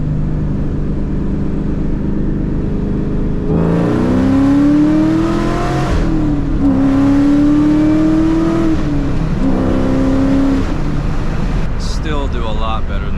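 Interior sound of a loud Mustang Cobra as the engine revs hard through power shifts, with three rising pulls broken by brief drops between gears, loud and close over a steady road roar.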